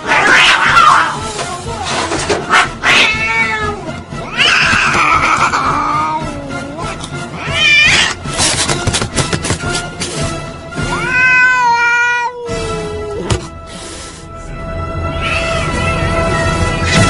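A cat meows and caterwauls loudly and repeatedly in a home, drawn-out wavering yowls rising and falling with short pauses between cries, close and alone without talk.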